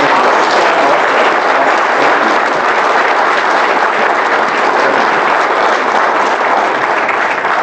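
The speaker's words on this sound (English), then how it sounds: "Let's give Byron Embry another round of applause." Loud, sustained applause from an audience honouring speaker Byron Embry after a talk on the Emmett Till story, a close, unbroken roar of clapping with no voices over it.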